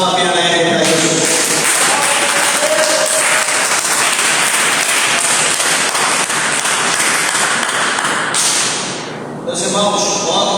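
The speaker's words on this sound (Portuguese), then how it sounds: "desocupe vossas mãos e dê uma salva de palmas bem alegre para Jesus" A church congregation bursts into loud, sustained applause lasting several seconds, dense hand-clapping filling the room before it tapers off, with a voice speaking over the edges.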